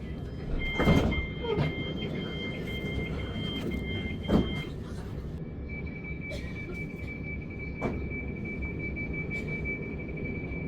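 A Southern passenger train runs to Caterham from East Dulwich, heard from inside the carriage as a steady rumble with soft clunks and high electrical whines. Announcement tones sound over the noise, with no clear talk.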